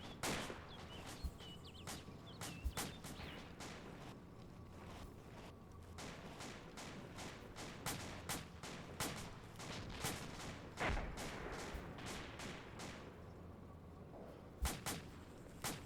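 Scattered gunfire crackles across a battlefield in Arma 2's Warfare mode in Takistan, with sharp individual shots and short bursts popping irregularly at varying distances over a low, steady ambient rumble.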